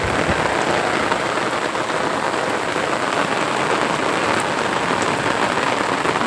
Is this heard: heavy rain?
yes